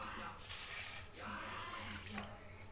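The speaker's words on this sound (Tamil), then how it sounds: "2 கப்பு டவுன் pandan ஊற்றிருக்கேன்." Pandan water being poured into a kuih lopes batter mixture, a steady splashing liquid stream running for a few seconds, close and fairly loud, with a voice talking faintly underneath.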